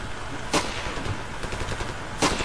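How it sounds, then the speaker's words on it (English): Gunfire in the video game Ravenfield: two sharp shots, spaced well apart, ring out loudly over a steady background of in-game ambience, with no talking. "I'm just gonna shoot one of our guys, because I feel like it."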